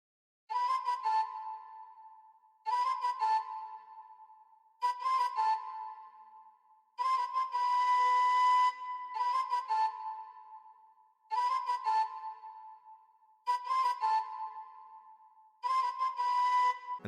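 A simple, repetitive flute sample pattern drenched in Valhalla reverb, played as an instrument plugin for a trap beat. Seven phrases of breathy sustained notes repeat steadily, each with a soft tail, and no voices are heard.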